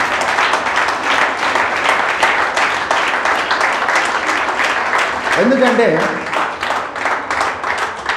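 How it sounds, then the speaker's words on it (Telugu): An audience at a church revival service claps loudly and rhythmically throughout, a dense stream of hand claps with a voice speaking over it. "సరే గట్టిగా చప్పట్లు కొడుతూ అప్రిషియేట్ చేశాను"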